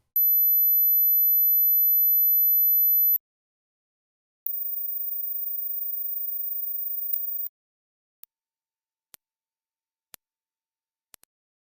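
High-frequency hearing-test tones: a long steady pure tone, a pause, then a second even higher tone, followed by a few faint isolated clicks in near silence.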